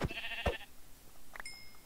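Two short bleats from a gray sheep in Minecraft, clear and close, with a few thin game sound effects trailing after them.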